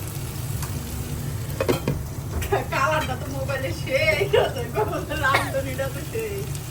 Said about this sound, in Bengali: কলমি শাক দিয়ে ছোট ছোট চিংড়ি দিয়ে ভাজি হচ্ছে